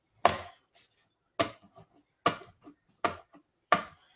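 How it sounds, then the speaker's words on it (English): Knife chopping mushrooms for duxelles on a cutting board, five sharp chops spaced about a second apart, each with a faint follow-up tap, close and clear with no talk. "I'm mostly just chopping up mushrooms for the duxelles"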